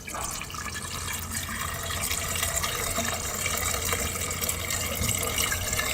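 Water pours steadily into the coolant reservoir of a 2001-2004 Ford Mustang GT during a coolant flush, a continuous splashing rush that holds an even level throughout.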